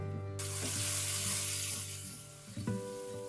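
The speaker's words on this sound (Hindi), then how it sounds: "1 कप कटी हुई प्याज को रंग चेंज होने तक पका लें।" A cup of chopped onion frying in hot oil in a kadai, a loud, close, steady sizzle that swells and then eases slightly, with faint scraping and a low tonal hum beneath.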